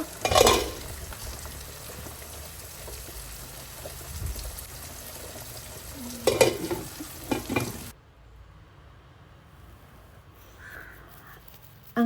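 A pot of rice with coriander leaves, its water nearly cooked off, is stirred, with quiet scraping and soft sizzling bursts for about eight seconds before the sound drops to near silence.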